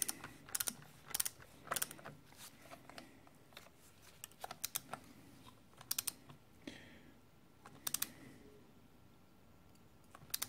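A torque wrench tightens a cylinder head bolt on a TDR250 motorcycle, giving sharp ratcheting clicks in short clusters, close and crisp against a quiet workshop.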